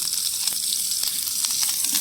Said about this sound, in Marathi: हे बघ कांदा तेल टाकले.